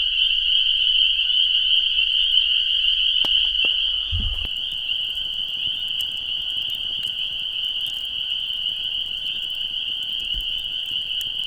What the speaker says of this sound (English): considering the noise from the frogs